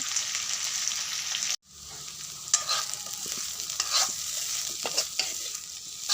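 Vegetable bhaji stir-frying in a pan, a steady close sizzle broken by brief scrapes and stirring knocks, with one short silent break early on and no talking.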